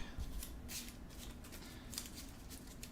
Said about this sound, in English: Shuffle all this in.